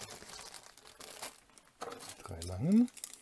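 A plastic bag crinkles and tears while building blocks for a Japanese cherry tree set are unboxed, soft rustling near the microphone ending in a louder rip, with someone speaking briefly.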